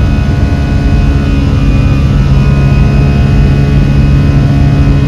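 A passenger airplane climbing out after takeoff from Pune airport produces a loud, steady, low jet-engine roar that stays continuous throughout with no voices.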